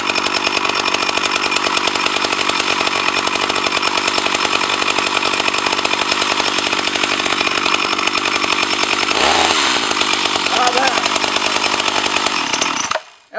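A Husqvarna 140 S chainsaw runs close and loud at a steady high buzz, wavering briefly near the middle before cutting off abruptly at the end.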